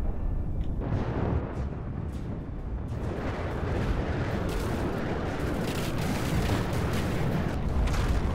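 Heavy missiles launching and exploding in the naval combat game From the Depths, a continuous roaring wash of blasts and booms that builds louder toward the end with no voices.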